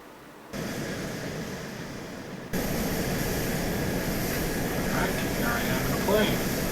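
Airplane engine in the ArmA 2 video game, a steady loud drone that jumps up in intensity after a couple of seconds and keeps roaring evenly, with a faint voice briefly over it.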